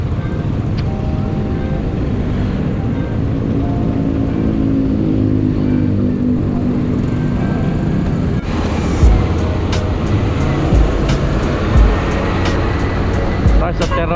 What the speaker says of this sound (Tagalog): Grabe traffic dito sa Coastal Road.